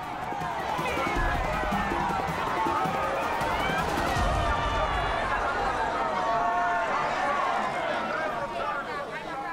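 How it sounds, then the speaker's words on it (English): A large enthusiastic crowd cheers and chatters for the champion of a Jamaican pushcart race, a dense, steady roar of voices throughout, swelling slightly in the middle. "cheered by an enthusiastic crowd"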